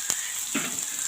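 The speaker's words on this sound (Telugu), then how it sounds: "కొంచెం ఫ్రై చేసుకోవాలి" Onions and green chillies with a pinch of cumin fry in oil in a pan, a short burst of hissing sizzle with a couple of soft spatters.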